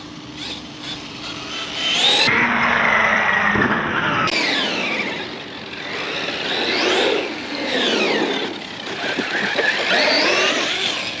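A Traxxas Xmaxx RC truck on low-profile tires tears along at full speed, its electric motor whining loudly and steadily, the pitch swooping up and down through turns, with tire squeal and no talking.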